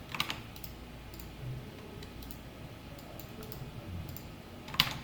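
Typing on a computer keyboard: soft, scattered key clicks close by, with a sharper tap near the end, over quiet room noise.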